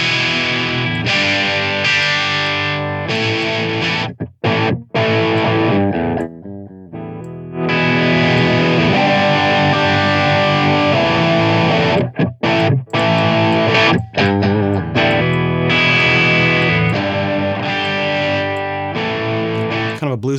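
Heavily distorted electric guitar through the Kuassa Amplifikation One amp plugin, playing a bluesy riff, loud and sustained, with brief pauses between phrases.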